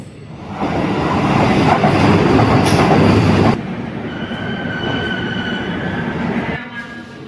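A train rumbles past loudly at close range on the Kollam to Ambalappuzha route in Kerala, a heavy roar that drops to a steadier running rumble with faint high wheel squeals.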